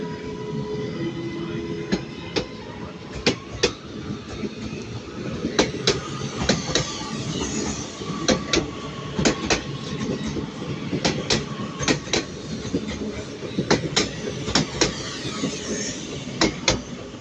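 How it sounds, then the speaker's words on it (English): Northern train moving through Manchester Piccadilly station, with a steady rumble and a rhythmic clickety-clack of wheels over rail joints, joined by faint wheel squeal and distant station ambience. "now the part is going to be the 1321 Northern service to Manchester Airport."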